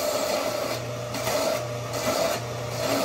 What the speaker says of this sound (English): on the good old belt sander here